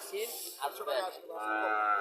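A bull calf at a village cattle market in Chandi Mura, Barura, Comilla, gives one drawn-out, loud moo close by, lasting about two seconds.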